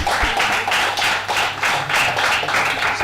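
A comedy-club audience claps together in a steady, fast rhythm of loud, close hand claps for a few seconds, with no speech.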